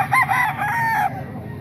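A sweater gamefowl rooster of the Talisay line crows once at a poultry market, a single loud, close cock-a-doodle-doo of about a second that fades into quieter background murmur.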